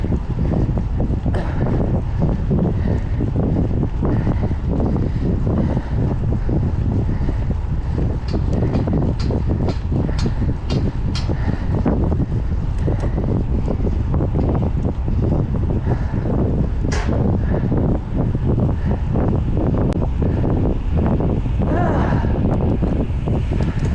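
Strong wind buffets the microphone during an outdoor bicycle ride, a continuous rough low roar with irregular gusty thumps and crackles lasting throughout, with no one speaking.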